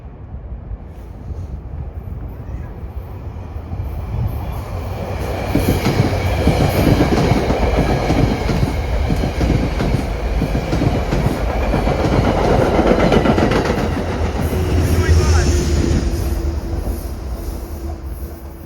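A Metro North deadhead train with an employee locomotive passes close by on the Hudson Line at Yonkers, a loud rumbling roar with rhythmic wheel clatter that swells midway, and a thin wheel squeal near the end.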